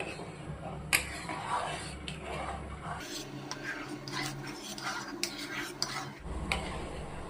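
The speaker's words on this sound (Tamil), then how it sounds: "புளித்தண்ணி சேர்த்து நல்லா கலந்து விட்டுருவோம்" Tamarind water being stirred into a pot of anchovy fish curry, with a spoon clinking and scraping against the pot in steady, close stirring strokes and brief bursts of sharper knocks.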